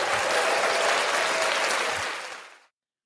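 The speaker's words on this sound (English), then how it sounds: "I love the applause." An audience applauds to welcome a speaker onto a stage, dense and fairly loud clapping that holds steady before fading out and stopping abruptly near the end.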